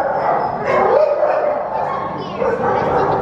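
Several dogs at a shelter yip, bark and whimper in overlapping bursts close by, a busy chorus of yelps that rises and falls, with people talking in the background.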